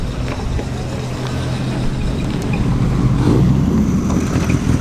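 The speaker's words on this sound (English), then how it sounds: "It's one of the Ford V4 power cars." A historic racing car powered by a Ford of Germany Taunus V4 engine runs at the Prescott hillclimb, its engine a steady low drone that swells slightly toward the end, heard from nearby with some wind noise.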